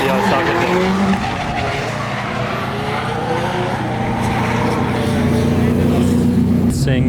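A loud drift car engine roars and revs continuously while tires squeal in a long sustained skid during drift qualifying at Meihan Sportsland, with a crowd or voices faintly underneath.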